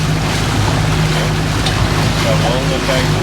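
Sea waves slap and wash against a small fishing boat in a constant close roar, with low engine hum and wind buffeting the microphone.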